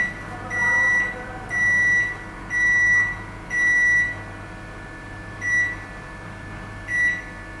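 A Glen 674 built-in microwave set to grill gives a series of short electronic beeps, about six evenly spaced tones over a faint background hum, each fairly loud and close.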